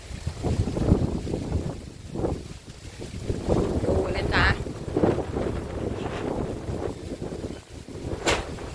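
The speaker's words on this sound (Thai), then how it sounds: "ดูโอ้ยเสียงลมดูเสียงลมดู" Wind gusting and buffeting a microphone aboard a boat, a steady roaring rush with swells, under a person talking throughout.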